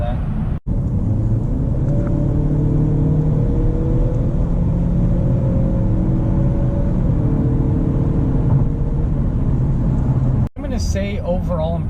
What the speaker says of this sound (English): a little bit of kind of sound from that turbocharged inline 4